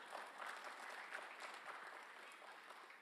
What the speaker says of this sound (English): please clap, then I will speak